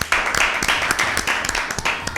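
Audience applause welcoming two competing teams at an Easter special Bible quiz program: dense, steady clapping from a crowd, fairly loud, filling the whole stretch without pauses.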